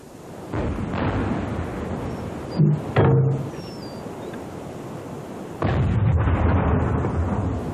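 Warship deck guns firing at a German U-boat, a few heavy booming blasts over a dense rumbling bed of battle noise, with two sharper bursts close together midway.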